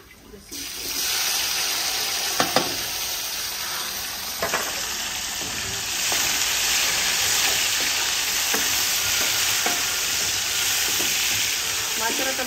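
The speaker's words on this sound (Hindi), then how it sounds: "टमाटर मैंने ऐड कर दिया है, इसको अच्छे तरीके से ब्राउन करते हैं" Tomatoes browning in hot ghee in a pan, a loud continuous sizzle and hiss up close, broken by occasional clinks and stirring knocks, with no voices over it.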